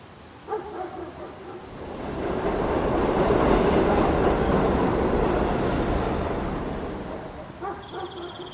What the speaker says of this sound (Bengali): নিজের গতিতে ছুটতে ছুটতে যখন ট্রেন আমাদের নামবার স্টেশনে এসে থামলো